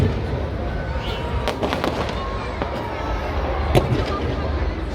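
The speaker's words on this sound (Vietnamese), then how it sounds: "Đây là pháo hoa" Fireworks burst over Sydney on a Saturday night, a steady crackling roar with several sharper booms standing out, while voices talk faintly through the display.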